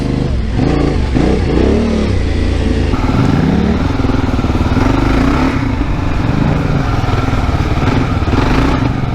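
A 250 motorcycle rides around an 8-mile dirt track, its engine loud and close throughout with rising and falling revs and a gear change, under steady wind roar.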